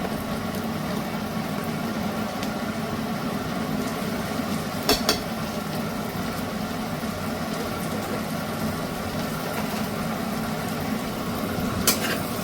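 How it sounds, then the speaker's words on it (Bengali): Garlic and ginger fry in oil in a wok, a continuous even sizzle held close and steady, with two brief sharp clinks of a utensil partway through. "রসুনটা লাল হওয়া অবধি এটা একটু ভাজবো।"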